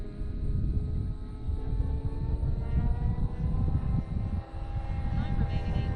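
Radio-control Mustang model airplane engine flying at half throttle, a droning buzz with slowly rising and falling pitch as it passes overhead, steady and fairly loud over wind rumble, with people talking nearby.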